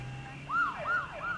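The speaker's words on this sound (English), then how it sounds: "I'm going to go with Elly in the ambulance." An ambulance siren wails, sweeping up and down in repeated rising and falling cycles, fairly close and clear over a low steady hum.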